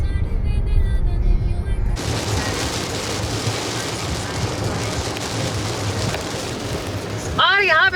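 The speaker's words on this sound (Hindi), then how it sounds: "बारिश इतनी तेज़ है." Heavy rain pours down steadily, a dense hiss and patter that fills the space for several seconds, with some speech or other sound at the very start and end.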